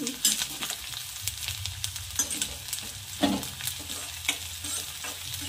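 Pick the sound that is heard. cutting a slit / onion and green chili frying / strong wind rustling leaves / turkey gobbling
onion and green chili frying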